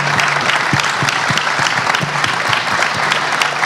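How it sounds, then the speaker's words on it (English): A large crowd applauds steadily and loudly at an NBA team's announcement event for the 2027 All-Star Game in Phoenix, with dense, continuous clapping throughout. "Give yourselves a round of applause"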